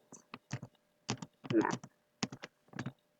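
Keys on a computer keyboard clatter in short irregular bursts of close clicks with brief pauses between them, with no voice over them.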